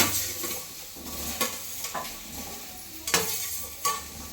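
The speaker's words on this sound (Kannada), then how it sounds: "ಇವಾಗ ಬೆಂಡೆಕಾಯಿನ ಹುರ್ಕೋಬೇಕಾಗುತ್ತೆ. ಚೆನ್ನಾಗಿ ರೋಸ್ಟ್ ಆಗಬೇಕು." Okra stir-fried and roasted in a hot pan makes a constant soft sizzle, broken by irregular spatula scrapes and taps against the pan, close by and with no one speaking.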